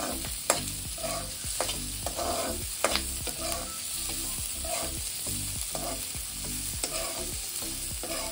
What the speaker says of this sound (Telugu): ఆనియన్ కొంచెం గోల్డెన్ కలర్ వచ్చేంత వరకు ఫ్రై చేసుకున్న తర్వాత అప్పుడు టమాటా వేసుకోవాలి